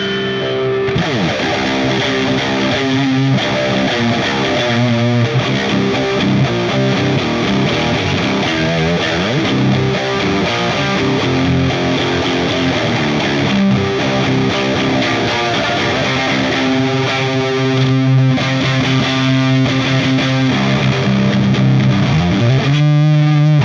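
Electric guitar played through an Orange amp simulation on the English Dirt preset, a continuous crunchy overdriven riff with sustained chords and single notes, loud and close throughout.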